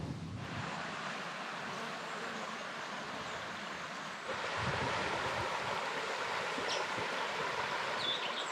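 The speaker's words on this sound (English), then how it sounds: "Nice little creek running through there." A small creek flows through volcanic country in the Victorian gold fields near Castlemaine, heard as a faint, steady broadband rush of water that swells a little louder partway through, with no voices.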